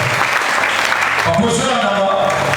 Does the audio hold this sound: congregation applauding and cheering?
yes